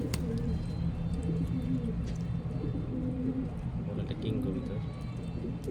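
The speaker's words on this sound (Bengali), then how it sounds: "এটা কিং কবুতর।" King pigeons coo repeatedly in low, throaty murmurs close by, with a soft bustle of birds around them.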